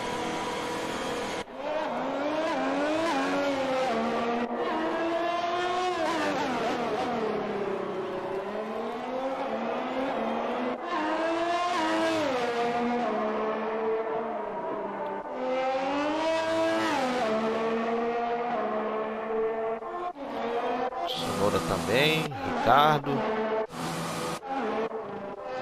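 Formula 1 cars race on the Canadian circuit in the F1 2021 game, with a high-revving engine whine rising and falling through gear changes and sharp downshifts, loud and continuous, followed by quick bursts near the end.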